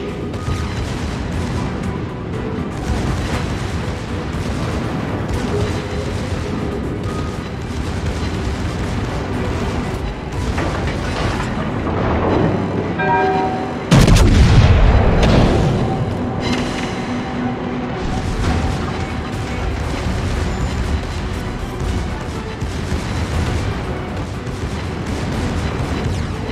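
A battleship in a naval combat game takes sustained heavy artillery fire, a dense continuous rumble of booms that swells into one loud, deep blast as it is destroyed, then settles back into steady battle noise.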